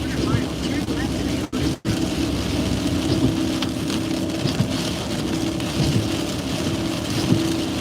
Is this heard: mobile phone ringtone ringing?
no